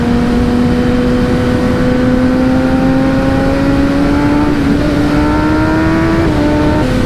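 Kawasaki ZX-10RR litre-class sport motorcycle heard close up as the rider pushes into a corner, engine roaring loud and rising steadily in pitch, with a brief dip and recovery near the end, wind noise throughout.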